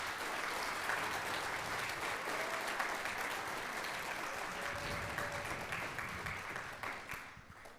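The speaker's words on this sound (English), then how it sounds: "So let's give all the Brebeuf teachers a big round of applause as well." A concert audience gives a long, full round of applause for the teachers after a school band and orchestra performance, dense steady clapping that thins out near the end.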